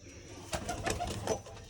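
Pigeons cooing nearby, a short run of soft throaty coos in quick succession against a quiet outdoor background, with no speech.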